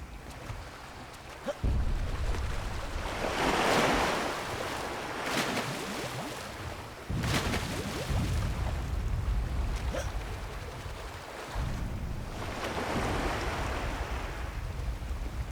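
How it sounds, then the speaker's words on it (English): Steady wash of rippling, lapping water in the video game Conker, with a soft rushing swell that rises and falls, continuous with no voices. "The rippling effects, the water levels, just waving around, the sound effects, the ripples."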